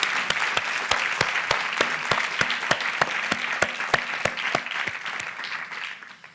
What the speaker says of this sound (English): Let's give a round of applause to our panellists.